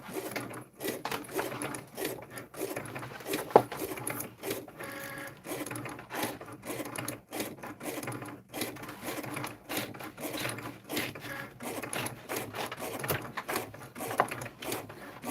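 A Cricut cutting machine cutting a rhinestone template: rapid, busy mechanical whirring and clicking from the carriage moving back and forth, with irregular ticks and brief pauses throughout, close and moderately quiet.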